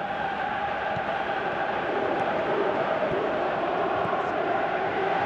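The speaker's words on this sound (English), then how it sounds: "Crowd appreciates good football all round" A dense stadium crowd roars and murmurs steadily throughout, a broad continuous wash of many voices at a Persib versus Persija match in eFootball PES 2017, loud and unbroken with no distinct peaks.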